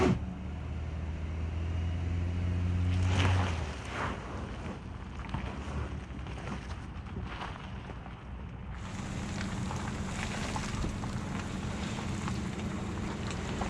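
A 2022 Nissan Pathfinder in sand mode drives off-road over sand, its engine and tyres rumbling steadily under heavy wind buffeting on the microphone, with a louder burst early on.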